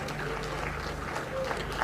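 An audience claps at a devolution conference in Makueni County, a dense, even round of applause filling the hall, with a voice faintly audible underneath.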